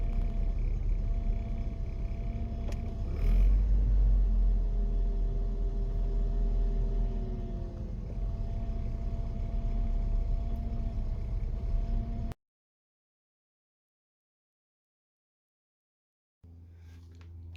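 A 1990 Volvo 240 GL Estate engine idles steadily with a low, even hum for about twelve seconds before it abruptly cuts to silence, then faint sound returns.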